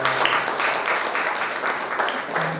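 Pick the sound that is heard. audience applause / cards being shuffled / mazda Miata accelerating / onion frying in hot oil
audience applause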